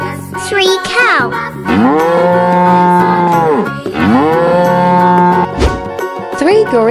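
A cartoon cow in an animal painting game moos loudly several times, long drawn-out lowing calls following one another with only brief gaps between them.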